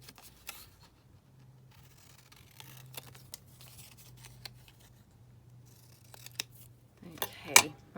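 Scissors snipping fabric for a junk journal cover, a series of small, close, crisp cuts spaced irregularly, with a louder rustle of handling at the end.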